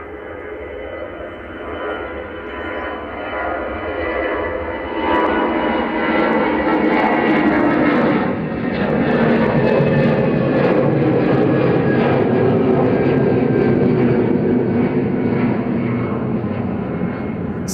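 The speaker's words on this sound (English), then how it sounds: "that's EasyJet Amsterdam A320-200 GEZ UO, flight 2167" An easyJet Airbus A320-200 jet bound for Amsterdam rumbles at Manchester Airport, its engine roar swelling from a steady hum into a louder, sustained broadband rush that holds for many seconds.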